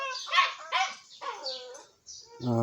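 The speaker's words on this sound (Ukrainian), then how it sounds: "собака гавкає на курей" A dog barks at chickens several times in quick, yelping bursts, close and fairly loud, with short pauses between.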